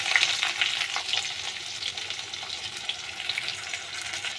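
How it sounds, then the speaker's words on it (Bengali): Onions hit hot oil with nigella seeds and fry with a loud, continuous crackling sizzle, close up, with light stirring scrapes and no talking. "কালো জিরেটা যে একটু ফুটে গেছে, এবার আমি পেঁয়াজগুলো ছেড়ে দিচ্ছি"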